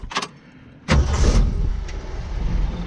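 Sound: Jeep CJ7 engine with new dual Borla exhaust

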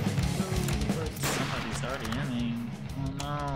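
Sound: gunfire in the video game Garry's Mod

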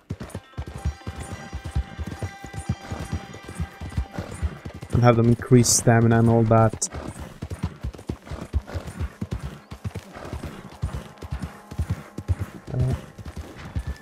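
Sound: horse hooves in the video game Red Dead Online

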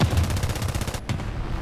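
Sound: gunfire at the player's tank in the video game War Thunder

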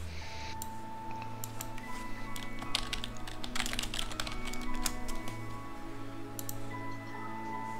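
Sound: typing on a computer keyboard

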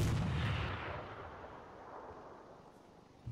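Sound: explosion of a demolition charge in the video game ArmA 3

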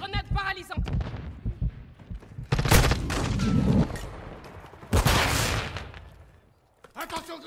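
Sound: enemy gunfire in Call of Duty video game

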